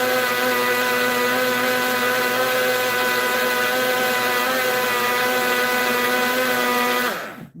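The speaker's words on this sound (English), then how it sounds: "I'm going to blend it in my little blender here" A small kitchen blender runs at full power close by, a constant loud motor whir with churning texture that holds steady for about seven seconds, then spins down and stops.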